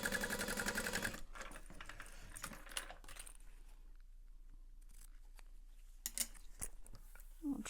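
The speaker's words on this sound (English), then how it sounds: "And I like to sew that open edge shut" Sewing machine stitching a handbag's open edge shut, a short whirring run at the start, then quiet handling taps and rustles.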